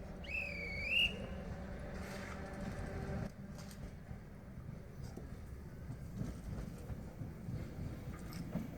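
A little yellow train (petit train jaune) in France sounds a short two-tone whistle at the start, followed by a steady low rumble of the carriages rolling along, fairly faint and continuous.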